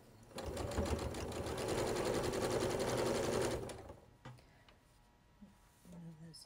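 A sewing machine stitches a pinwheel quilt block in one steady, fast, rattling run of a few seconds, close and loud, then stops, followed by soft handling noises of fabric.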